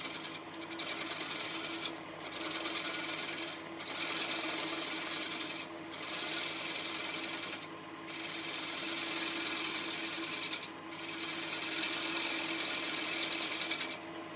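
Wood lathe spinning steadily while light pull cuts trim a tenon on a flower turning: a continuous hissing, scraping drone that swells and dips in several regular passes, with no talking.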